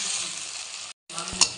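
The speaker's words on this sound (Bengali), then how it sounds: "অল্প পরিমাণ পেঁয়াজ বাটাও দিয়ে দিলাম।" Onion paste sizzles in a hot pan for a Bengali hilsa fish curry, a steady close frying hiss that breaks off for a moment and then returns with a short utensil clatter.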